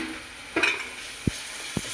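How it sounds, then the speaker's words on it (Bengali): Tomatoes and garlic fry in a pan with a steady soft sizzle, broken by a few short knocks of a utensil against the pan. "টমেটো কুচি দিয়ে টমেটো ভাজা হবে নরম হওয়া পর্যন্ত রসুন ভাজা দেবো"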